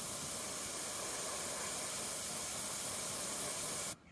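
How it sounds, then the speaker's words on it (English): An airbrush sprays paint onto a small plastic wheel for a 1/43 scale Airfix Land Rover Series 1 Pickup model, a steady close hiss running unbroken for about four seconds before cutting off sharply. "and then you take your airbrush"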